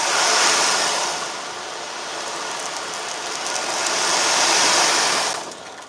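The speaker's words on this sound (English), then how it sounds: "That's my ocean drum." Small beads rolling across an ocean drum make a loud, continuous surf-like hiss that swells, eases off, swells again, then fades out near the end, with no voices.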